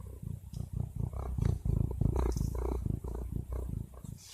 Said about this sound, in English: I'm gonna let y'all listen to the cat while this is loading